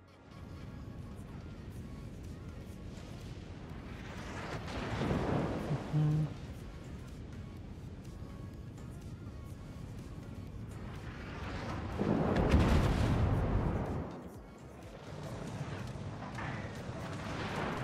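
A World of Warships naval gun salvo thunders out as two heavy, rumbling booming swells several seconds apart, each rolling and decaying over low background game noise while someone talks faintly.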